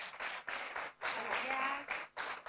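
Bursts of audience applause at a Spanish image-festival event, fairly quiet and a little distant, with clapping swelling and dipping in several waves and faint voices mixed in.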